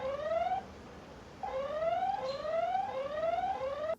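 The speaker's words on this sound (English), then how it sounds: "if they detect motion, the light comes on and alarm sounds" A smart security camera's electronic alarm siren wails in repeated rising sweeps, a short burst, a pause, then several quick sweeps in a row, moderately loud and close.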